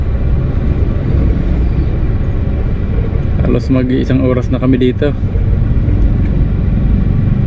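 Congested traffic near Naga City drones in a constant low rumble, with someone speaking over it for a few seconds.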